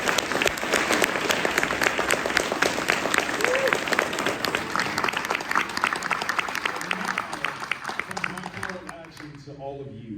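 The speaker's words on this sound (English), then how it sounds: "Let's give them a round of applause." Sustained, dense applause from a large audience at a comic convention panel (NYCC 2023), loud and steady throughout before tapering off near the end, with some crowd voices mixed in.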